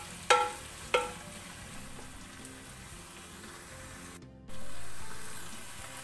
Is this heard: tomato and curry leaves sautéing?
yes